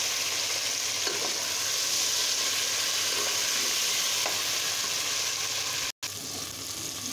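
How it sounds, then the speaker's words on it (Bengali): Eggplant frying in hot oil in a pan gives a close, steady sizzle that crackles without a break for several seconds. It stops briefly near the end and then resumes. "আমি এখন বেগুনগুলো ভেজে নেব।"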